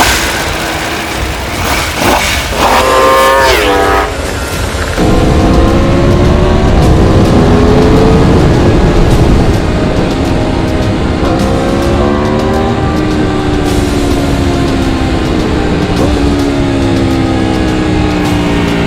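A 2020 Aprilia RSV4 RR V4 superbike engine runs loud and close, rising through rapid revs at first and then holding a sustained aggressive roar with repeated gear-change pitch climbs, with no talk.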